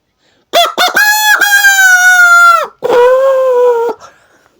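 A person imitating a rooster's crow with the mouth: a few short clipped notes build into a long, loud, nasal crowing call, then a second, lower drawn-out call, close up and with no other sound.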